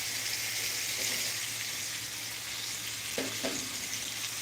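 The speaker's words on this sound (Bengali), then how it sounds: "এবার এটার সাথে ফ্রাই করে নিচ্ছি আমি" Boiled potatoes frying in a pan with a constant bright sizzle and a few stirring knocks near the end, close and alone with no talking.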